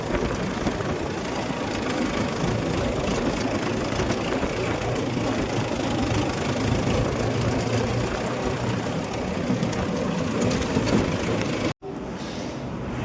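A tractor engine runs steadily close by for about twelve seconds, a dense rumbling drone with a constant level, then cuts abruptly with a brief dropout before continuing more quietly.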